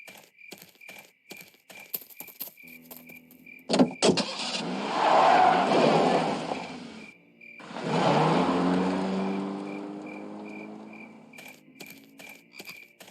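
A car drives by in the video game Full Throttle Remastered, with two loud engine passes that swell and fade, separated by a brief gap, over quieter ambient clicks and a steady tone.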